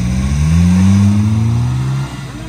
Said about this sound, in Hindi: नहीं, गाड़ी फंस गई है ज्यादा।